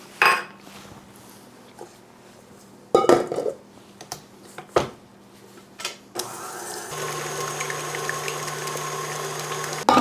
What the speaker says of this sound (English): with the paddle, I'm going to mix all that together